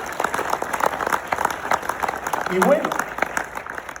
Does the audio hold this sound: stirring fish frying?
no